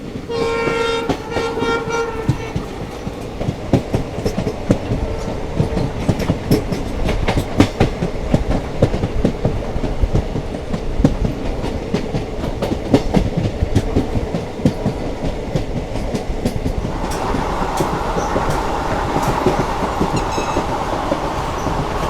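From inside the AC chair car of the Somnath to Ahmedabad Intercity Express, steady rumbling and rhythmic wheel clatter carry on throughout, with horn toots near the start and again late.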